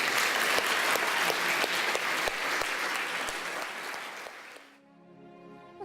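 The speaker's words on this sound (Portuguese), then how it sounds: "Vale aplaudir a Jesus?" A church congregation applauds during a Sunday service, a broad, continuous burst of many hands clapping that gradually thins and falls away near the end, followed by a soft musical tone.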